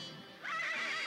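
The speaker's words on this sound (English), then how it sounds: "Tell them horses of yours to settle down." Horses neigh in a 1983 Lone Ranger western episode, with a loud, shrill whinny rising after a brief quieter lead-in and ringing on to the end, close and clear with no talk over it.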